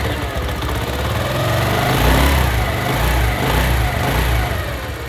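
A Honda CD 70 motorcycle engine, freshly fitted with a new timing chain, runs steadily up close with an even, throbbing low rumble and mild rises in revs.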